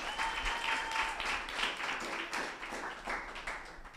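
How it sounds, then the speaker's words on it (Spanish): A church congregation at a Sunday service applauds visitors, steady applause from many hands filling the room for about four seconds at moderate volume. "Un fuerte aplauso a todos los que nos visitan el día de hoy."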